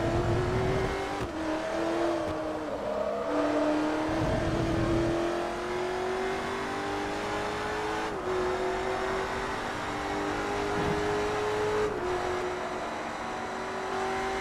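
A Porsche race car engine in Forza Motorsport 3 drones steadily at high revs along a straight in an R2 class championship race, its pitch climbing and dropping with gear changes, loud and constant.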